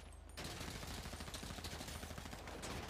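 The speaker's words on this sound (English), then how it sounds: "Okay, well, I just got shot." Gunfire in GTA V roleplay rattles off as a quiet, rapid burst of shots over game ambience, ending in a sharper, louder crack.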